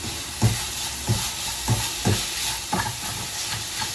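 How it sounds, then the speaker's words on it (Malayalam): Jaggery syrup, flattened rice and grated coconut are stirred in a pan, giving regular scraping strokes about every half-second over a steady soft hiss of cooking. "തേങ്ങയും കൂടെ ചേർത്തിട്ട് നന്നായിട്ട് ഇതിനെ വീണ്ടും മിക്സ് ചെയ്തെടുക്കാം."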